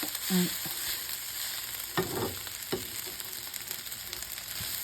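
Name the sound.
stir-frying ham fried rice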